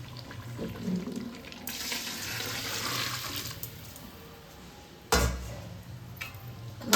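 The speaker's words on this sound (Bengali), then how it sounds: "এবার পাশে গরম জল করে রেখেছি এটা এর মধ্যে দিয়ে দিচ্ছি" Hot water is poured into a pot of Bengali mutton curry, a steady splashing pour that swells, fades, then ends with a sharper splash and clatter, close by with no talk.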